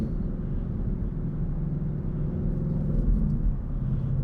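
A 2017 Ford Mustang GT Performance Pack making 450 wheel horsepower rumbles steadily from inside the cabin while driving, a deep continuous engine drone that swells slightly near the end, with no talking.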